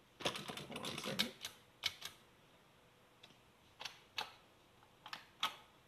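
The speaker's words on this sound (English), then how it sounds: "you need your keyboard, and then you just hit enter on that" Keys tapped on a computer keyboard while setting up a bartop arcade cabinet, a quick burst of clicks followed by scattered single and paired key presses, close and crisp against a quiet room.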